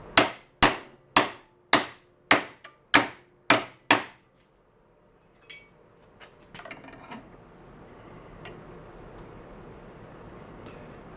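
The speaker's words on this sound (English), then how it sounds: "Try to hit it right at the weld." Hammer blows on the weld of a band saw mount, made while converting a hand-held band saw to a bench-top model: eight sharp, ringing metallic strikes in quick even rhythm, close and loud, followed by faint shop noise and light rattles.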